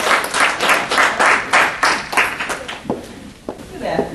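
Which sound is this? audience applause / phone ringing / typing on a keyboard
audience applause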